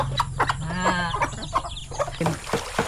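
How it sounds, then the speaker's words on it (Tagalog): Several chickens cluck and cackle close by in quick, overlapping bursts, with a short throaty squawk in the middle. "ang babait ng mga manok dito"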